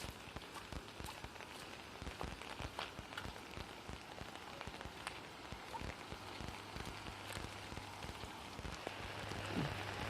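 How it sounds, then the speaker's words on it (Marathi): Heavy monsoon rain pouring on a village road between flooded fields, a dense continuous hiss with scattered sharp drop impacts, steady throughout with no voices. "हे दोन्ही साईडनं पाऊस चाललेले"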